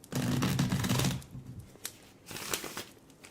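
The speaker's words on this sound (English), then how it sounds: "do a quick shuffle." A deck of cards is shuffled up close in a quiet ASMR setting: a dense burst of riffling card flutter, then softer sparse taps and a second shorter riffle.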